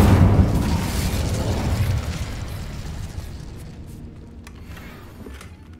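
Incendio fire spell cast in Hogwarts Legacy, heard as a loud booming burst that rumbles on, then slowly fades over several seconds with no talking.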